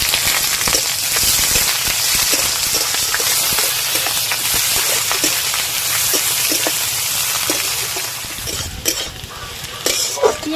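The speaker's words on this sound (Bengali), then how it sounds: "পেঁয়াজ একটু ভেজে নিয়েছি" Chopped onions sizzling in hot mustard oil in a kadai with bay leaf and five-spice, a steady crackling fry broken by occasional stirring clicks and scrapes toward the end.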